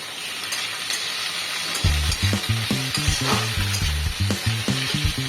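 Aubergine sizzling and frying in hot oil for Bengali-style sambar dal, a steady loud crackle that jumps in as the pieces go in, with rhythmic stirring scrapes throughout.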